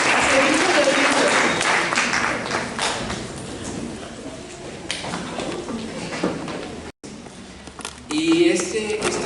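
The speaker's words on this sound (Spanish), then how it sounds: "yo quiero que se den un aplauso simplemente por estar aquí." An audience bursts into applause that is loud and dense at first, then thins out over several seconds, with a brief dropout and some thumps and voices toward the end.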